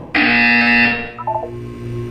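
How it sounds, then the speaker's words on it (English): A loud electronic buzzer from the video game Portal 2 holds a steady, harsh tone for about a second, then breaks into a few short falling electronic tones over a low hum. "You will hear a buzzer. When you hear the buzzer, look up at the ceiling."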